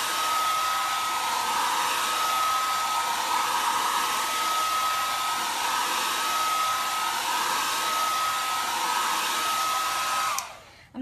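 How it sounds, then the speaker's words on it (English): A heat tool blows hot air steadily over a chalk transfer to dry it, a loud constant whooshing hiss with a faint whine that runs unbroken before cutting off abruptly at the end. "I'm just going to hit it with just a little bit more heat just to be sure"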